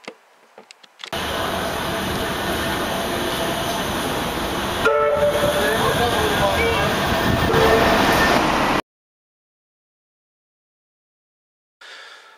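A train rumbles past loudly in England, a continuous roar of wheels and carriages with a sustained horn tone through it, cutting off abruptly into silence before a brief faint return.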